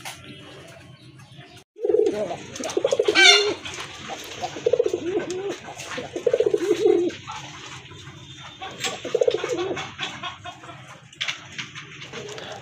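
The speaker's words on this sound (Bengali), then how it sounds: "এখানে 6 পিস কবুতর দেখতে পাচ্ছেন।" Pigeons coo in a farm loft where country chickens are also kept, several loud throaty bursts spaced through the stretch with softer coos and a hen's clucks between them.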